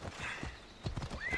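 Hooves clip-clop in the Assassin's Creed Odyssey video game as a horse is called over, then the horse neighs with a rising whinny near the end, all close and fairly loud with no talk.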